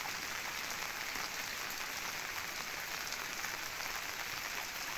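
Steady heavy rain pouring down in a village, a dense unbroken hiss of drops on surfaces, loud and close for the whole stretch with no voices.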